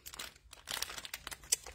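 A clear cellophane treat bag is folded over by hand close up, giving a quiet, crisp run of crinkles and crackles with a few sharper snaps.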